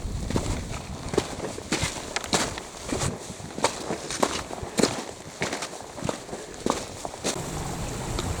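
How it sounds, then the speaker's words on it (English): Footsteps of a hiker walking over largish firm stones on a trail in Fforest Fawr, a steady run of crunching, clattering steps at a moderate pace, fairly faint against a quiet outdoor background. "Underfoot, it's mainly largish stones, so it's quite firm to walk"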